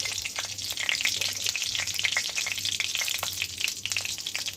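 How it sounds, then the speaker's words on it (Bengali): Bay leaf and whole cumin sizzle in a little hot oil in a kadai, a dense, crackling fry that holds steady throughout, close and alone. "এখানে আমি ফোড়ন দিয়ে দিচ্ছি তেজপাতা আর একটু জিরে ফোড়ন দিয়ে দিচ্ছি"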